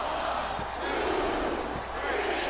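A large wrestling arena crowd in a video game roars and cheers in a continuous, echoing wash of noise, with a few dull thuds underneath.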